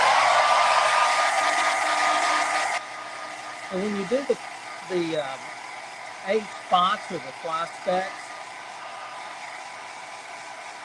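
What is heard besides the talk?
hair dryer blowing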